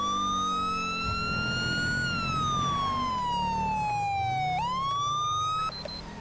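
Police car siren in GTA 5, a loud continuous wail that sweeps slowly up and down in pitch with a sharp jump near the end, carrying over low engine rumble with no talking.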